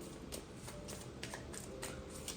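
Tarot cards being shuffled close by, a quiet, continuous papery riffle with soft repeated flicks and light slaps over low background noise.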